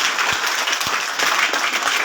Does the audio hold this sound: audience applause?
yes